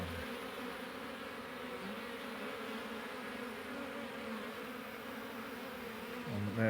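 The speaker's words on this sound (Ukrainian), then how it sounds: "Бджоли обсіли цей бакфаст." Buckfast honeybees buzz steadily in a dense, continuous drone close to the microphone, with a brief louder rustle at the end.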